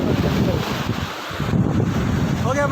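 Sea wind gusts across a beach at Mamallapuram, a loud, constant roaring buffet against the microphone with low rumble throughout.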